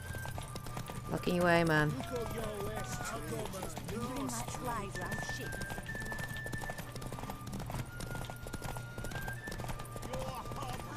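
A horse in a derby race in The Witcher 3 clip-clops at a steady gallop under continuous game music, with a brief whinny early on and someone speaking briefly.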